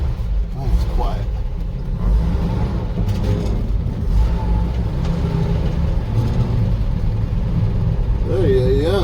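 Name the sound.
1954 International 2.5 ton truck engine idling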